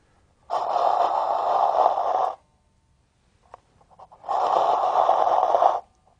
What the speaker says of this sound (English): So if I take the string and I pull on it like this, almost makes a breathing sound like Darth Vader.